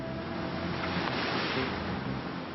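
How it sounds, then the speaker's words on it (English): Near-gale wind roars around a boat crossing a sound near an albatross colony, a dense, loud, continuous rush of gusts and breaking waves with spray. "It's really windy just now and waves sometimes coming up and splashing over us on the boat"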